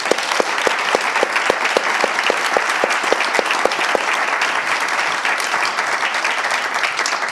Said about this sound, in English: really a round of applause to our panelists